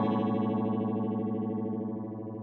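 A vintage guitar effects pedal set near a slapback echo gives a sustained, gritty guitar note with a quick repeating echo shimmer. It rings loud and steady, then slowly fades over a couple of seconds, with no voices.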